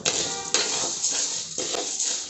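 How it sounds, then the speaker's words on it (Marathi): Dal being stirred and roasted dry in a pan over full gas, with steady scraping and clinking of a spatula against the metal, nearby and continuous with brief louder knocks. "मी सुरुवातीला फुल गॅसवरती सतत हलवत राहत आहे"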